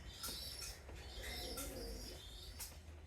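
Racing pigeon cooing softly while a person handles it in a loft, with low murmuring coos and faint chirps over a steady low background hum, no talk.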